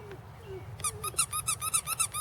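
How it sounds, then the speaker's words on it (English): Squeaky bunny dog toy squeezed repeatedly, a rapid run of bright, close, high-pitched squeaks in an uneven rhythm following a quiet lead-in with faint low rumble. "Well, he likes the squeaky sound."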